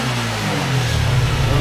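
A Honda Titan KS 125 motorcycle engine fitted with a new CDI unit idles with a low rumble, then rises into a brief, close rev.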